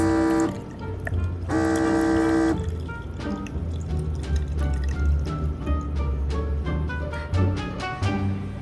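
A Baby Brezza Formula Pro Advance machine hums with a steady tonal whir, then dispenses formula into a bottle with a stream of rapid drips and trickles close by.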